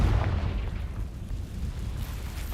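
A Confringo fire spell explodes in the Hogwarts Legacy video game, a loud deep boom that rolls out in a low rumble and fades over a couple of seconds, with no voices.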